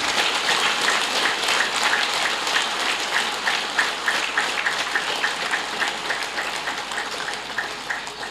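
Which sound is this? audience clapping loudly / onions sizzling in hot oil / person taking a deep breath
audience clapping loudly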